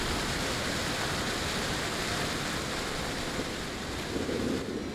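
A waterfall in the horror game Fatal Frame: Maiden of Black Water, a dense, unbroken roar of rushing water that stays loud and steady throughout.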